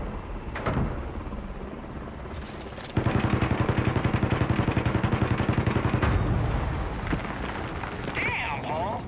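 Helicopter in the video game CrossfireX, a loud rotor thump pulsing steadily amid heavy gunfire and explosions, with game voices talking over the combat.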